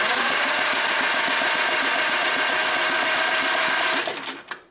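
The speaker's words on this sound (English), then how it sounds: "Crank it over and see what comes out of the cylinders." A Farmall Cub tractor engine being cranked over, a rapid, even, mechanical chugging for several seconds that cuts off abruptly near the end.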